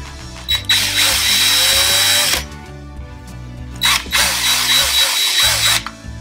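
A power drill countersinks a hole in a DIY bench top power supply enclosure, whirring loudly at close range in two sustained runs separated by a short pause.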